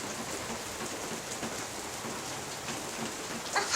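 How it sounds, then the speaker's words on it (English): Rain pours steadily during a rainstorm, a dense, even hiss of drops hitting surfaces, fairly loud and close, with a few sharper splashes near the end. "Yeah, it's raining."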